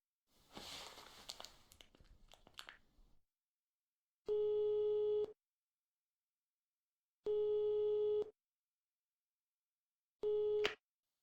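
A telephone ringback tone in the horror game Metaphobia: three evenly spaced, roughly one-second electronic tones separated by silence, following a brief rustling at the start.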